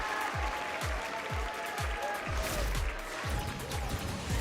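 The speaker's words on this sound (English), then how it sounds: "I'd like you to give a huge round of applause" Audience applause fills the hall at a Brawl Stars esports championship, steady dense clapping lasting a few seconds over a booming rhythmic bass beat from the arena sound system.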